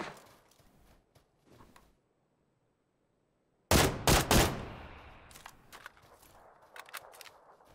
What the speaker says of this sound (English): Who's firing at someone who is presumably still alive?